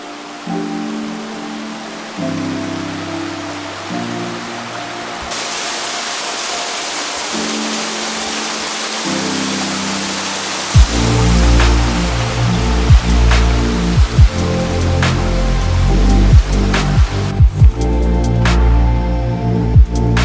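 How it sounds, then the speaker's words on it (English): The lower waterfall at Memorial Falls in Lewis and Clark Forest, Montana, gives a steady, loud broadband rush under background music with pulsing tones throughout. "so far the lower waterfall has been great"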